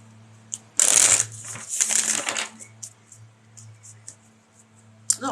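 A deck of cards for a spiritual reading is shuffled close up in two quick bursts of riffling and rustling, followed by a few light taps and card clicks over a steady low hum.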